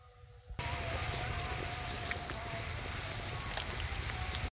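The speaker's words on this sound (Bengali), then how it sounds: "আমি ভেজে রাখা চিংড়ি মাছগুলো এক এক করে দিয়ে দিচ্ছি।" Fried prawns going into a simmering Bengali chingri malai curry set off a sudden loud, steady sizzle and bubbling that keeps up without a break, with small pops scattered through it.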